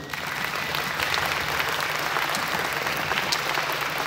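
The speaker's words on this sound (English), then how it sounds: "a real round of applause" Steady, sustained applause from an audience at a pre-K ceremony, many hands clapping together in a full, even wash that holds for several seconds with no speech over it.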